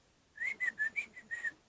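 A person whistles a short tune of about six clear, bright notes in a steady rhythm, close and alone with no talking.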